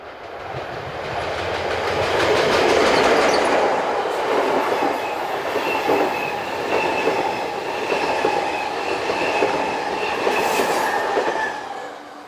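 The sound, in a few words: Swiss interregional train behind electric locomotive rounding a curve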